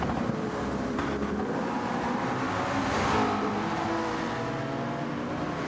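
Race cars at the Spa circuit during an Ultimate Racing League race, a steady loud engine roar with a swelling pass-by around the middle, overlaid with wind buffeting on the microphone.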